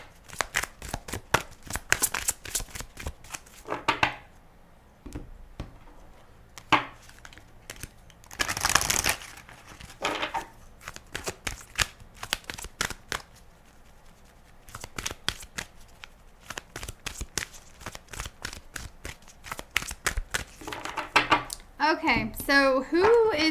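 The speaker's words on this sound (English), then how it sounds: "Shuffle up your cards a little bit" Tarot cards being shuffled in repeated dry riffling and flicking bursts, close and fairly soft, with a few brief pauses between handfuls and some faint background noise.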